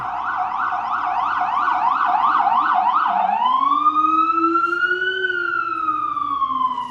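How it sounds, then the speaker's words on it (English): An ambulance siren passing in a city wails loudly in a fast rising-and-falling yelp, then shifts into a slow, long wail, close and continuous. "you get to hear an ambulance rolling like crazy"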